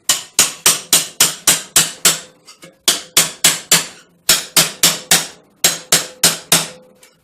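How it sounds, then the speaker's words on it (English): Rapid metallic hammer taps on a chisel cutting metal held in a vise, sharp and ringing, coming in bursts of five to eight quick strikes with short pauses between. "So gentle taps through the hammer, and I'm pressing down the chisel"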